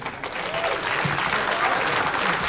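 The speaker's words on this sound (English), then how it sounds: "And a warm applause for his opponent, Mark Robertson, the runner-up." An audience at the 2018 Australian national men's singles final gives warm, steady applause for the runner-up, dense and continuous from start to end, with a voice faintly underneath.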